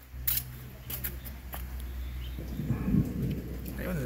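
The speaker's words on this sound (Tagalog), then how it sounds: "lakas ng kulog." Thunder rumbling during a storm in Nasugbu, Batangas: a low, heavy, continuous roll that swells toward the end, with faint rain and a few sharp handling clicks on top.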